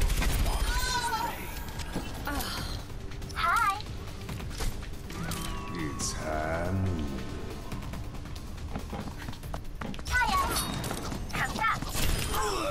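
Rapid gunfire bursts and impact sounds in a shooter video game, scattered throughout at moderate level beneath a player talking.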